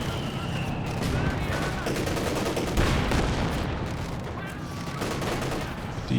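Dense, sustained battlefield gunfire from Company of Heroes 2, with a suppressing machine gun rattling among other shots and blasts in a 2v2 match, loud and continuous throughout.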